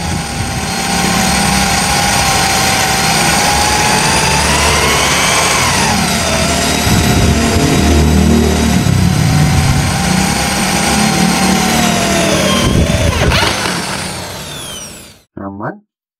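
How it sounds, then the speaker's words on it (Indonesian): DongCheng electric impact drill running at low RPM, a 6 mm bit boring through 3 mm steel plate, makes a steady, loud motor whine with grinding as the bit bites, then stops abruptly near the end. "Kita coba plat ketebalan di 3 mili, ukuran mata bornya di 6 mili."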